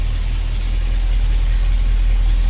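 A 1978 Jeep CJ-5 4x4 with a Holley 4-barrel carburetor idles with a steady, deep, loud rumble close by, with no voices.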